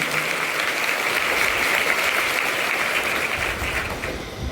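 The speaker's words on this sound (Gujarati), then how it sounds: "એમની કુળ રીતિ માટે ફરીવાર આપણે એમને જોરદાર તાળીઓ કરી" A crowd at a women's self-reliance community event claps loudly and steadily for several seconds, then the applause thins out and fades near the end.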